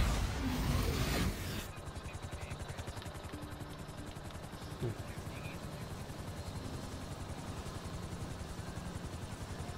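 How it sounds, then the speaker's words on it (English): A plane goes down in GTA 5, heard as a steady loud engine roar after an abrupt cut from a harsher burst of noise, with a brief thud partway through. "All I see is just this plane going down next to me."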